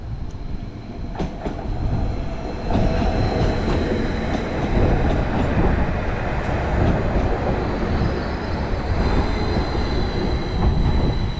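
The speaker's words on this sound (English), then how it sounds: "Arriving in is our train, which is a 755 heading to Felixstowe." A Class 755 train bound for Felixstowe rolls into a station steadily, a loud continuous rumble of wheels on rails with faint squealing and clicking over joints, no talking.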